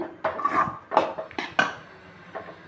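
A spoon scrapes and knocks inside a pot while grated coconut is mixed into kozhukattai filling, about five close metallic clinks and scrapes in uneven rhythm.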